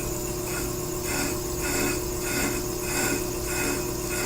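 A brake lathe cuts a brake drum in a steady, grinding metallic scrape that pulses in a regular rhythm over a constant motor hum, with no voices.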